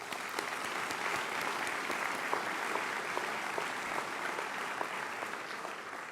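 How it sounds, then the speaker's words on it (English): Sustained, dense applause from a large audience at a medical school white coat ceremony, honouring parents and family, steady and full throughout with no voices on top. "let's give them a big round of applause for all their help"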